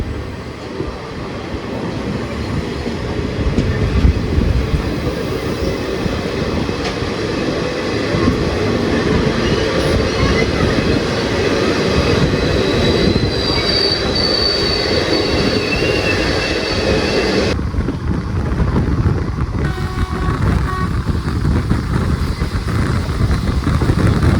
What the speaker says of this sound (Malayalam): നമ്മളങ്ങനെ 13 മിനിറ്റ് ഡിലേ അടിച്ചിട്ട് കണ്ണൂർ റെയിൽവേ സ്റ്റേഷനിലേക്ക് കയറുവാണ്